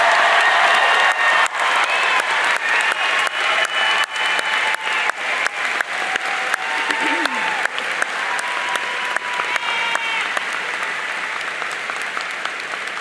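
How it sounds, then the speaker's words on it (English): A graduation audience applauds honors graduates at a college commencement, a sustained dense wash of clapping from a large crowd that holds steady for the whole stretch before tapering slightly. "stand or raise your hand so that we may applaud your remarkable academic accomplishments"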